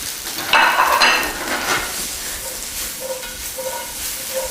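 Green beans tipped into a pan of softened onions and frying, a loud burst of sizzle and clatter at first that settles into a steady, softer hiss with faint scraping.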